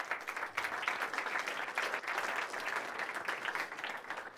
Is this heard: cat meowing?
no